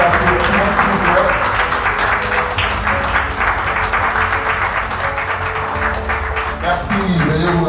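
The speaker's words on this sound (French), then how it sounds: "encore des applaudissements s'il vous plaît" Sustained, loud audience applause fills a certificate-awarding ceremony, dense clapping continuing steadily throughout with a voice briefly speaking over it near the end.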